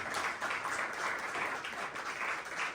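An unplanned burst of audience applause at a business of sports and entertainment gathering: dense, sustained clapping from a crowd, moderately distant and steady.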